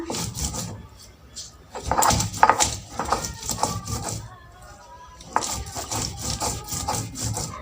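Amla and onion being ground by hand on a grinding stone, with repeated rough scraping and rubbing strokes, close and moderately loud, with occasional brief voice sounds.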